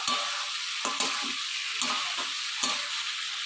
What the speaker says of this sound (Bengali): ক্যাপসিকামগুলো দিয়েও আমি নাড়ব